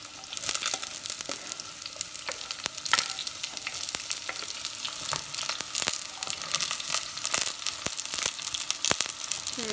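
Small onions fry in a clay pot for a village-style fish curry (meen kulambu), with a close, continuous crackle and sputter broken by sharp pops and scraping stirs.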